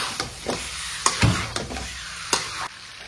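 Chicken frying in a pan for curry gives a constant close sizzle, with a few sharp scrapes and knocks of a spatula stirring the meat.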